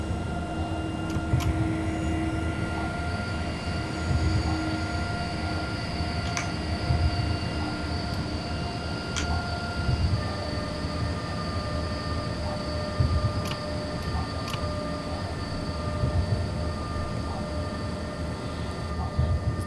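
Freight train hauling coal in the SimRail simulator, a steady loud rumble of wheels and running gear throughout with sustained tonal whines and occasional faint squeals, no talk.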